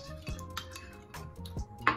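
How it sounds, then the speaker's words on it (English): Ingredients for a no-cook chilli grapefruit trout and couscous dish mixed together in a bowl, a few soft clinking and scraping strokes at close range with quiet gaps between them. "I'm gonna mix that all together."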